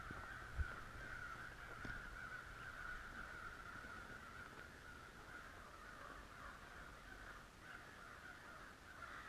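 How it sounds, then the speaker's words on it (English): Crows caw repeatedly on a quiet mountain morning, the harsh calls carrying from some distance over steady ambient outdoor hiss, with a single sharp knock near the start. "Listen to those crows over there."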